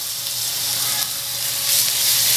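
Butter and oil sizzle in a hot pan, a steady close hiss and crackle that swells slightly louder toward the end, with no voices.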